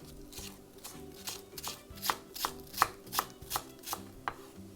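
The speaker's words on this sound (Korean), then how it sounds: "반 갈라서 그냥 얇게 이렇게 세로로 썰어주세요" A knife slicing a halved scallion thinly lengthwise on a cutting board, giving about a dozen crisp, evenly spaced cuts in a steady rhythm, close and alone.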